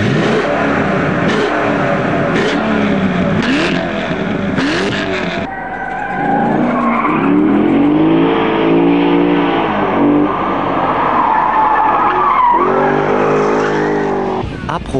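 A Corvette C6 Z06 roars around a race track, engine revving up and down through gear changes, with tires squealing in the corners.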